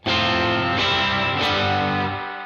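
An electric guitar strums a chord three times through a modeled spring reverb effect on a UA Dream '65 amp emulator, each strum ringing out into a lingering, splashy tail.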